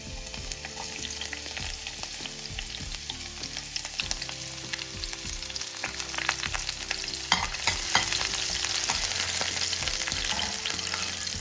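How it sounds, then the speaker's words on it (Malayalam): Chopped ginger and green chillies fry in hot oil for a prawn roast, giving a steady crackling sizzle with occasional stirring scrapes, close and unbroken, with no talk. "ആദ്യം നമുക്ക് എണ്ണയിലേക്ക് ഇഞ്ചിയും പച്ചമുളകും ഇടാം."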